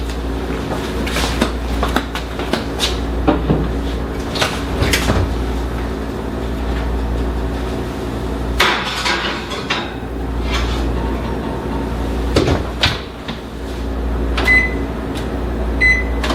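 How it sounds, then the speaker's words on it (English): An oven hums steadily while lemon bars bake, with a few sharp knocks and clatters as the oven door and cupboards are handled nearby. "we're going to stick this in the oven"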